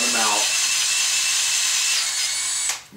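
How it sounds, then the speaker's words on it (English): Cordless drill spins into a paint-clogged threaded hole in a painted bracket, a loud steady high whine that winds up, runs for a few seconds, then cuts off abruptly. "I would never try to tap with a cordless drill, but just for chasing the threads again, that's fine."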